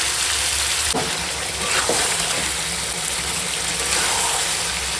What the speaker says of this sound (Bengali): মাংসটা অনেকটা সময় ভেজেছি ভাজাটা মনে হচ্ছে যেন তলায় লেগে যাচ্ছে